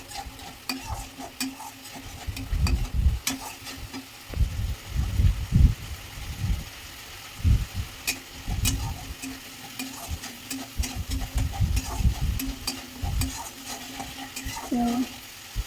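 Fish curry masala is stirred in a frying pan with a spoon, giving repeated scraping strokes over a steady sizzle, with a few soft metallic clinks. The sound is close and fairly loud, and no one speaks.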